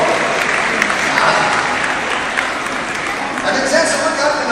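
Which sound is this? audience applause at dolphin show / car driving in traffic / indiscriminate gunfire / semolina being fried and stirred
audience applause at dolphin show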